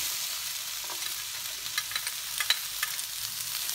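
Garlic fries in a pan with a steady, close sizzle and a scatter of small pops and crackles on top.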